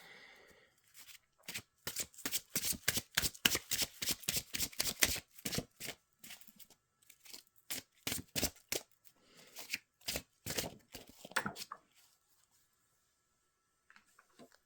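Tarot cards are shuffled by hand in repeated bursts of crisp, rapid riffling and slapping, close and loud, with short pauses between rounds before falling silent near the end.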